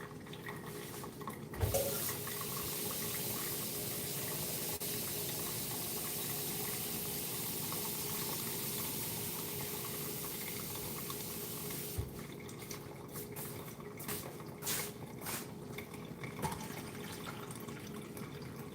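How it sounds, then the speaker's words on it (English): Water runs steadily from a tap as more is added, a continuous close hiss and splash that shifts in tone partway through, with a few clinks and bumps. "I'm going to add more water still while that's going on"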